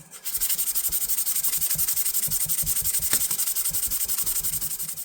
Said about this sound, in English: you would touch it up with the 1000 grit